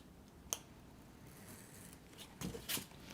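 Scissors snipping through box material, a few sharp isolated cuts spaced apart, close and quiet, with no talking.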